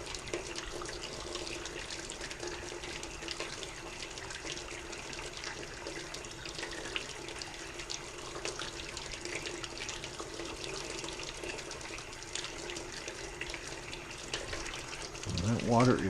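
Hot water runs steadily from a tap in a continuous, fairly faint hiss and trickle, with a brief louder splash right at the end.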